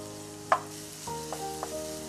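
Prawns fry in a pan for a Malabar dish, with a faint steady sizzle broken by a few sharp clinks and scrapes of stirring, close and quiet with no talking.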